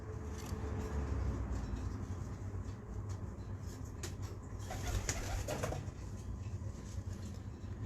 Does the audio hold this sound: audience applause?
no